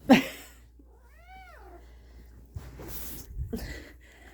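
A house cat meows once, a clear rising-and-falling call in a quiet room, with a short sniff or breath just before it and faint rustling after.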